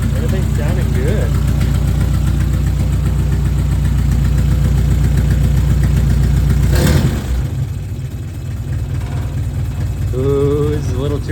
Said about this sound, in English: This is carbureted, so if I pop the carburetor too soon, it goes into medium idle mode instead of high idle mode.